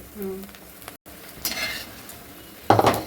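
Edible gum (dink) frying in hot ghee in a pan, heard as short sizzling bursts with light clinks of a utensil, a brief gap midway and a louder burst of sizzle near the end.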